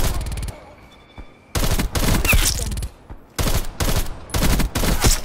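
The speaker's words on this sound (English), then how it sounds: "that time the strafe run actually got a few people" Strafe run killstreak gunfire in Black Ops Cold War, heard as several loud, dense bursts of rapid shots separated by brief lulls, with no talk.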